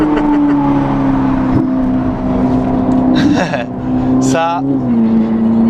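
A Ferrari 458 Italia engine roars loud and steady through a mountain tunnel, its note rising in pitch as it revs, with a person talking over the sound.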